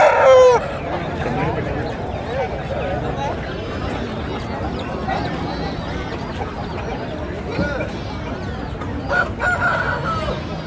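A rooster crows amid a noisy crowd at a village country-chicken market in Bhogapuram, Vizianagaram district, with clucking fowl and steady chatter of people talking all around.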